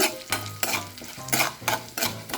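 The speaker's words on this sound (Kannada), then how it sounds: "ಶೇಂಗಾ ತಗೊಂಡು ಅದನ್ನು ಹಾಕಿ ಇದು ಚಟಪಟ ಅನ್ನೋ ತನಕ ಇಂದ ಹುರ್ಕೋತಾ ಇದ್ದೀನಿ" Peanuts are stirred and dry-roasted in a pan for cluster bean upma, with rhythmic scraping strokes roughly every half second over a faint crackle, close and moderately quiet.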